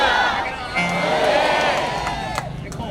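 Large crowd at a Christian religious procession (shobha yatra), dense continuous murmur with cheering and whoops, steady and close, voices layered throughout with no clear words.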